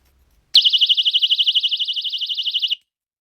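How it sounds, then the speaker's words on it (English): A personal safety alarm with an LED light sounds a piercing high warbling siren, rapidly pulsing for about two seconds before cutting off, close and alone with no talking. "It comes with this LED light / safety alarm."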